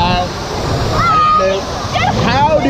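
Surging waves in the wave pool at Volcano Bay water park wash steadily under a bed of crowd noise and nearby chatter, with brief shouts and voices over the churning water.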